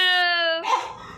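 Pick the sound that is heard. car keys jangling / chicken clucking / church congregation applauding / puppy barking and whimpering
puppy barking and whimpering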